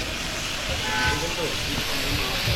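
Food fries in butter with a steady, close sizzling hiss that holds evenly throughout while a person talks over it.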